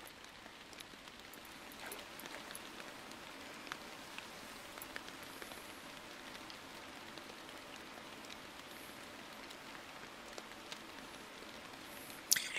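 Steady rain falling on a lake in the Fishing Planet game, a soft, even patter of drops throughout, faint and uninterrupted with no talking, ending in a brief louder splash.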